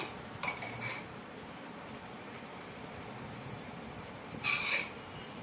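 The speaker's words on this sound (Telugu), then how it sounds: "అన్నం ఏదన్నా కొంచెం గట్టిగా అనిపించినా గిన్నెలోనే కదుపుకోండి" Biryani rice, a chicken dum biryani, being stirred in its pot, with a few scattered clinks of a metal spoon against the vessel over a quiet, steady background.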